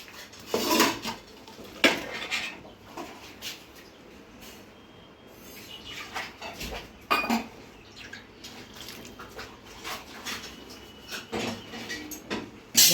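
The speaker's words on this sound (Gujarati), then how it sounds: "આ ભાત આવું હમણાં ઢાંકી દઉં છું" Metal pots and utensils clatter in a home kitchen while a pot of cooked rice is covered with its lid, bright clinks and clanks recurring over about thirteen seconds with faint water sounds between.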